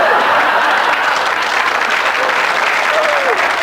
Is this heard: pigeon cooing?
no